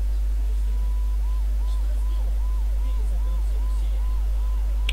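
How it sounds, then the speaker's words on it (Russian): Police sirens in the video game Max Payne 2, a steady wailing siren rising and falling in repeated cycles under a constant low background hum, moderately loud with no talk over it. "Полиция. Должно быть, Мона тоже слышала сирены."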